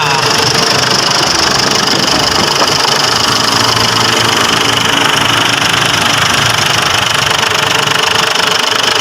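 A 2010 Ford Everest engine idles steadily at close range while warming up, a continuous rough rumble with a faint knocking texture throughout, no talking.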